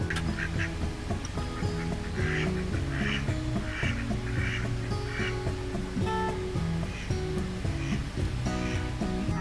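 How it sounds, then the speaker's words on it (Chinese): A flock of ducks quacks in repeated bursts at a roadside pond along the Road to Hana in Hawaii, fairly close and continuous over a dense background of other sound. "还见到了池塘里有一群鸭子"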